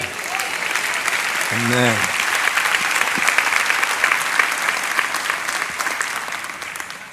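A church congregation claps steadily at the close of a prayer, dense applause filling the room throughout while a single voice says a brief word over it.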